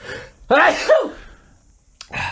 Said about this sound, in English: Definitely going to sneeze. Here it comes.